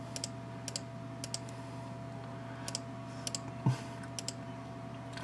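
Computer mouse clicks while drawing around a border in software, a series of sharp, faint clicks in small clusters over a steady electrical hum, with one louder knock near the middle.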